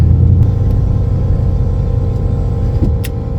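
A turbocharged Town Car with new gears and raised boost launches down a drag strip, its engine a loud, steady, close rumble that holds for the whole stretch as the tires spin.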